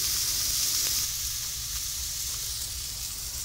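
Peppers sizzle steadily in a hot frying pan while an omelette lunch is cooked, a constant bright crackling hiss with no voices over it.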